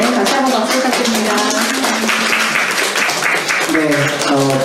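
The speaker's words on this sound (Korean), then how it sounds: "다시 한번 박수 부탁드립니다" Applause from an audience at a history talk in Seoul, clapping that runs the full moment under louder speech, with a voice heard speaking over it.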